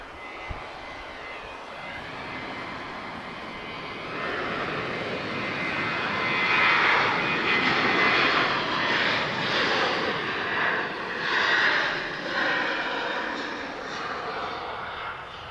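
A Boeing 737-800 jet departs Lisbon Airport at sunset, its engine roar building steadily and loud, swelling to a broad peak mid-pass before easing slightly while staying strong to the end.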